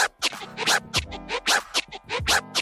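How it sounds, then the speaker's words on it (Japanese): Rapid DJ scratch bursts from the MERGE FX effect on a Pioneer controller running rekordbox or Serato, choppy back-and-forth strokes in quick uneven rhythm, loud and close with no talk. "ライトの位置によって、スクラッチの音が変わっていきます"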